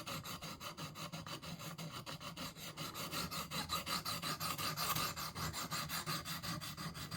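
A hawkbill knife is drawn across the stone of a KME guided sharpener in quick, regular rasping strokes, a close, steady rhythmic scraping with no talk.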